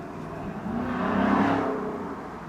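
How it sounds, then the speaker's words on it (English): A big muscle car drives by outdoors, its engine rumble swelling to a peak mid-pass and fading away as it goes, fairly loud and with no talking. "Big muscle car going by."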